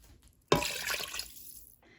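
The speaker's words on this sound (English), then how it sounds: "I'm adding 2 cups of water." Two cups of water poured into a soup pot of cooked vegetables, a sudden splashing rush that tapers off over about a second and a half, close and fairly loud, with no talking.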